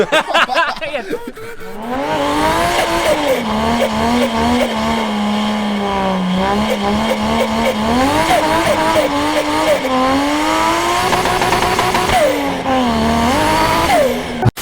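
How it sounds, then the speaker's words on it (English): A 450-horsepower Toyota Chaser JZX100 with a 1JZ engine revs hard and its tires squeal continuously through a long burnout, pitch rising and falling with the engine, loud and close. "Cut to burnouts."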